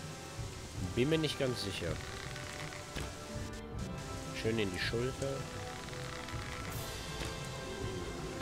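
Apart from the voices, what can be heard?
rain in video game Gothic 3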